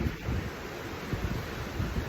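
Sea waves wash against the shore on a northern coast, a steady broadband roar with wind buffeting the microphone and no clear breaks between waves.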